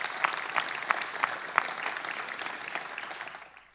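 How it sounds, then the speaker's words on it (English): Faint, distant applause from a crowd at a Phoenix Suns announcement honoring Suns and Mercury team members, with a few sharper individual claps standing out before it fades away. "Please give them a great round of applause."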